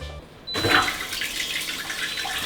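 Water from a bathroom sink tap in a hotel room bursts on abruptly and then runs in a steady, fairly loud hiss, following a short quiet stretch.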